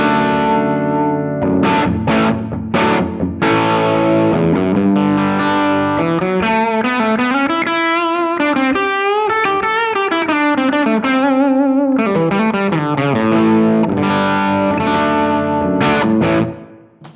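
An electric guitar played through stacked drive pedals with a Gladio pedal rings out loud and saturated, sustained chords and bending lead notes with a chorus-like shimmer filling the whole passage.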